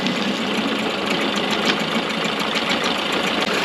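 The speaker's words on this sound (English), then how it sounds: "So the motor sounds really good." A Mercury outboard motor running in gear, a steady close mechanical drone with a fast rattling knock, even and unbroken throughout.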